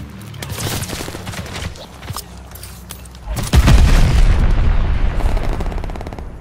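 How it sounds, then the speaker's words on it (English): Call of Duty: Vanguard bombing run: scattered gunfire and sharp cracks, then a heavy, loud burst of booming explosions that rumble on to the end. "Teammate called a bombing run."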